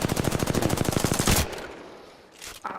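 Rapid burst of Triple Take rifle fire in Apex Legends, a fast, loud string of evenly spaced shots lasting over a second, then cutting off into a fading echo and a short after-sound.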